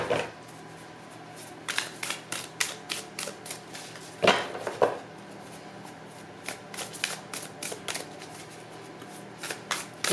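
Tarot and oracle cards are shuffled by hand in close, crisp bursts of riffling and slapping, with a short pause midway before the quick shuffling resumes.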